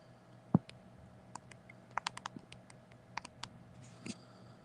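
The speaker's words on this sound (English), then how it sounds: "Typing." Typing on a computer keyboard, sparse irregular clicks and taps close by, one sharper key strike early and then scattered light keystrokes over a quiet room.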